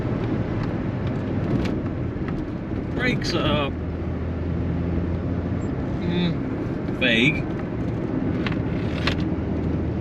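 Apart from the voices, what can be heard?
Rover 100 Metro engine screaming at 50 mph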